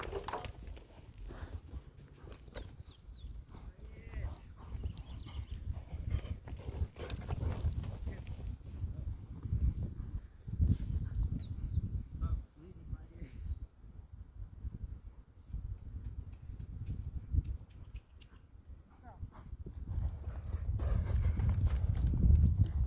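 Hooves of a horse on a lunge line clip-clop steadily around a circle, a close rhythmic beat that slows and stops near the middle before picking up again, with faint wind and no voices.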